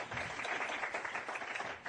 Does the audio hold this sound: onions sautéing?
no